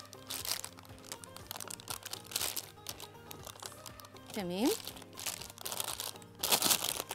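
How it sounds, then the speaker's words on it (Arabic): A thin freezer or sandwich plastic bag crinkles and rustles in bursts as minced meat is pushed inside, close and crisp, while someone talks and a brief squeaky sound rises midway. "هجيب كيس حلواني او كيس سندوتشات عادي خالص، اللي هي اكياس التلاجة"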